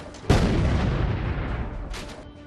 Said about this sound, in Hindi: और फिर एक जोरदार धमाके में आतंकियों का नामो निशान इस धूल और धुएं